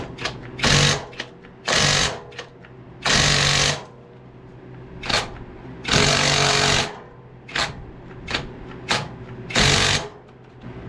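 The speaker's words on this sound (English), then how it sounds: "I'm hoping this impact will have enough." Pneumatic impact wrench hammering at a 5/8 nut on a John Deere riding mower, several loud, rattling bursts of a second or so, separated by short pauses and quick blips, close up with no talking.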